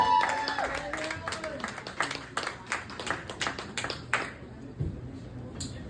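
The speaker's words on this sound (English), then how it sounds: "I want you to keep your hands clapping right now for Ryan Fay." Comedy club audience clapping and cheering for the next stand-up comic, a dense burst of overlapping claps that thins out and fades toward the end, with a few scattered voices underneath.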